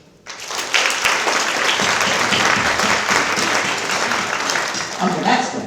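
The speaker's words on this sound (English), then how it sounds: "So clap your hands now if you can think of an Asian American movie that you really like." An audience at an Asian American and Pacific Islander Heritage Month awards event breaks into clapping, a sudden dense burst of applause that holds steadily for several seconds before thinning slightly at the end.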